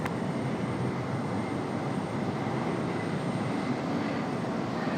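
Steady, loud jet engine roar from an American Airlines Boeing 777 pushing back at Raleigh-Durham International Airport, a broad continuous rumble that holds level throughout with no talk.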